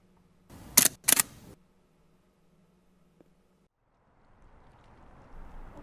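Two quick camera shutter clicks close together, taken while photographing a freight ship in low light, standing out loud and crisp against near silence, followed by faint wind-like hiss.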